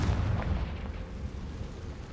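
A Confringo blasting spell explodes in Hogwarts Legacy, a muffled booming burst that rolls into a low rumbling decay over about two seconds, with no talk.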